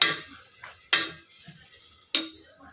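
Green paste frying in a pan for mushroom biryani, stirred with three sharp scrapes of a utensil against the pan over a soft, continuous sizzle, close and without voices.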